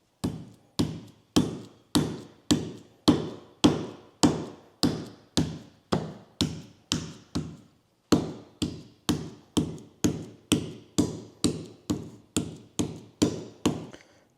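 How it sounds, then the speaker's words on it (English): Trimmed rabbit meat is pounded to tenderize and thin it, a steady series of close, sharp thuds about twice per second with one short pause midway. "I'm just gonna tenderize it and just kind of thin it out a little bit"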